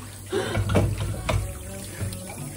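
Water runs from a tap into a sink at home, a steady broadband wash with a few louder splashy surges, close by and continuous for a couple of seconds.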